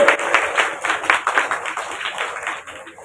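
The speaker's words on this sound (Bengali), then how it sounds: "জোরে একটা হাততালি।" Loud, close applause for a girls' high school quiz team at a station inauguration ceremony, many hands clapping in quick overlapping bursts that stay strong before thinning out near the end.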